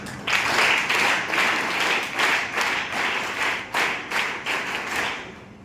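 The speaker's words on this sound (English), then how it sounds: "let's have a huge round of applause for the MCs as well" A school audience claps for the masters of ceremony at a house declamation competition: a sustained round of many hands with a rhythmic, pulsing texture, swelling and easing slightly and tapering near the end.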